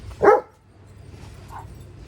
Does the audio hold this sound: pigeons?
no